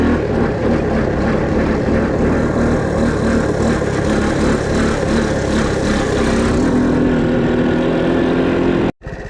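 Honda ATC three-wheeler engine pulling hard in fourth gear, a loud, steady droning buzz that holds throughout and shifts up in pitch near the end before cutting off abruptly.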